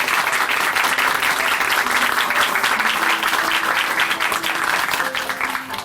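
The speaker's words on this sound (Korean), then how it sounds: "다시 한번 큰 박수 보내드릴게요." Sustained applause from a church congregation at the close of a Christian testimony program, loud and dense throughout the clip with no speech over it.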